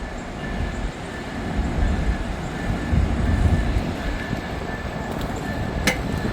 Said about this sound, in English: we got Y127. I could tell by the profile, the front profile of the locomotive itself.